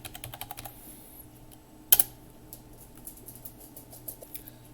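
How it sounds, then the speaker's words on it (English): A password is typed on a computer keyboard during a Linux login, a quick run of light key clicks, then a single louder keystroke like Enter, and a few soft taps afterward, close and quiet. "So that's the DK's password"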